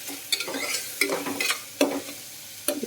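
Onions frying in a pan for cabbage egg curry, stirred with a utensil in a few distinct scraping strokes over a steady close sizzle, with no talk.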